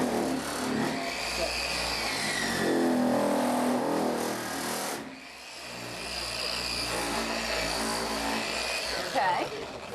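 A Porter Cable 7424XP random-orbit polisher runs on a stainless steel kitchen counter, giving a steady, close whirring motor hum that dips briefly midway before picking back up.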